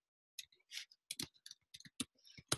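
Keyboard keys being typed on in irregular short bursts of sharp clicks, fairly close and moderately quiet, with no talking over them.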